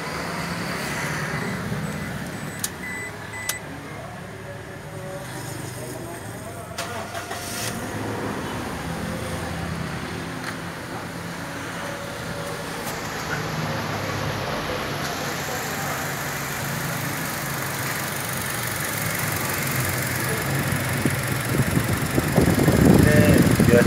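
A 2005 Toyota Innova 2.0L fitted with an HHO generator starts and settles into a steady idle, a continuous close engine hum that swells slightly toward the end, with people talking over it.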